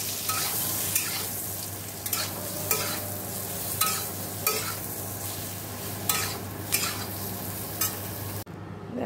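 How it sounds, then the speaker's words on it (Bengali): Eggplant frying in a pan, a continuous sizzle under repeated sharp scrapes of a spatula stirring every second or so, close and steady until it cuts off abruptly at the end. "এখানে দেখো বেগুনটা ভেজে নিচ্ছি।"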